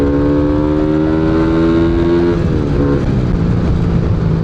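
A Rusi Flash 150X motorcycle engine revs up steadily, its rising whine up close and loud before the pitch drops back, with no talking.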